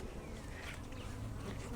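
Honeybees buzz around a new beehive at close range. A dense, steady swarm drone has individual bees whining past the ear, loud and continuous.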